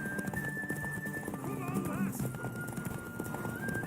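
Hoofbeats clip-clop alongside a horse's whinny in The Witcher 3: Wild Hunt video game, with a rising-and-falling neigh in the middle over steady ambient game audio and some voice in the background.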